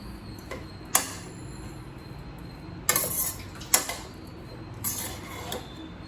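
Garlic rice is stirred in a pan with a spoon, making sparse metallic scrapes and clanks spaced a second or more apart against a faint, quiet background.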